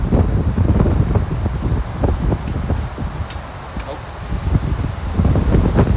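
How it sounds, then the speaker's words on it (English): Gusty wind buffets the microphone in low, rumbling bursts that swell and ease over a few seconds. "It's windy out here today"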